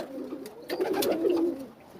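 Pigeons coo close by with soft, low, rolling calls, a couple of throaty phrases in quick succession over faint background noise.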